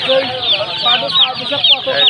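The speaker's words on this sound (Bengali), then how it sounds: "টাইগার মুরগির বাচ্চা, টাইগার টাইগার টাইগার খালি টাইগার।" Tiger breed chicks at a market, giving rapid repeated high chirps and soft clucking close by, with voices faintly in the background.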